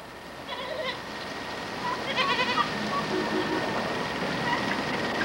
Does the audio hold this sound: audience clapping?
no